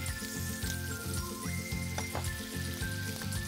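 Butter added to blond caramel in a Cristel frying pan for tarte tatin, with a steady close sizzle and bubbling, light metallic tinkles and a faint repeating mechanical hum underneath.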